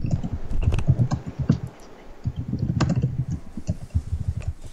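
Rapid, uneven clatter of keys on a computer keyboard, close by, continuing steadily with brief pauses and no talking.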